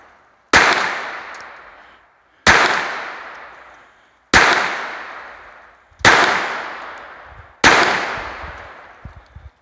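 Ruger LCP II .22 LR pistol firing: five sharp, loud outdoor reports spaced roughly two seconds apart, each ringing out briefly before the next shot.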